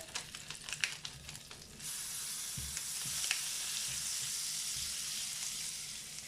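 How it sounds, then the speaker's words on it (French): Spices toast and sizzle in a hot pan, a steady close frying hiss that grows louder and denser after the first couple of seconds, with a few soft stirring knocks underneath. "faire torréfier les épices, c'est pour que ça diffuse plus d'arômes encore."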